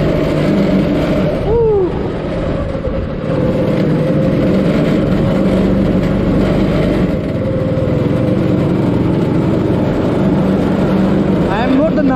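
A go-kart engine drones steadily while the kart is driven around a karting track in Imphal, staying loud and close throughout with a brief voice heard over it.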